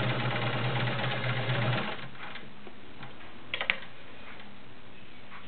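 A vintage Kenmore Model 1750 heavy duty 1.2 amp sewing machine stitches with a fast, steady, whirring hum for about two seconds, then stops, leaving faint room noise and a couple of soft clicks.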